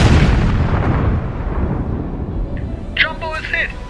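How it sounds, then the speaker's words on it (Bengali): A wartime explosion from a torpedo strike at sea, staged as an audio-drama effect: a loud, deep booming rumble that slowly fades, and a voice begins near the end. "কান ফাটানো একটা বিস্ফোরণে কেঁপে উঠল উভয় পক্ষের সৈনিকেরা।"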